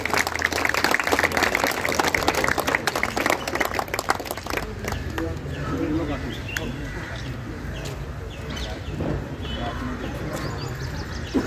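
Audience clapping at an outdoor yoga award ceremony, dense and loud at first, then thinning into scattered claps while birds coo and chirp and voices murmur in the background.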